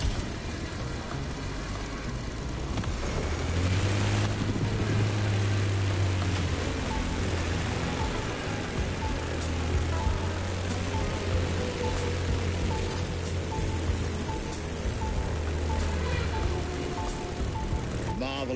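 An airplane flies in the racing game The Crew Motorfest, giving a steady, loud engine drone with a low humming tone that holds for the whole stretch without letup.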